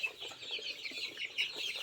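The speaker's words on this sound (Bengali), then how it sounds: "আমি দেখা দিচ্ছি আমার মুরগির খামার লেয়ার মুরগিগুলা" Layer hens on a poultry farm clucking softly together, a low continuous murmur of overlapping clucks and chatter heard at a modest distance, with no talking.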